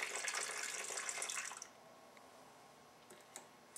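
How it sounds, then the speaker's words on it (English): Water pours steadily into a bowl of royal icing mix for about a second and a half, then stops, leaving a few faint drips in near quiet. "So adding water."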